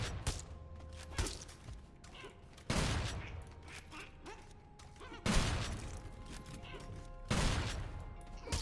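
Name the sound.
shotgun firing in the video game Sulfur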